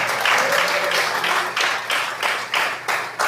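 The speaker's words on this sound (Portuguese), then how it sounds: "Uma salva de palmas para Jesus" A church congregation at a communion service claps in unison, starting as a dense burst and settling into a rhythmic beat of distinct, evenly spaced claps.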